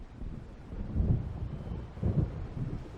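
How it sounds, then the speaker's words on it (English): Thunder from an approaching storm in the video game Alan Wake Remastered, heard as two deep, muffled rumbles rolling under a steady windy background, fairly faint and distant. "It seems there's a storm coming."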